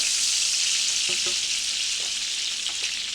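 Steady hiss of a hot pan sizzling throughout, dense and close, with a few faint clinks and stirring taps mixed in.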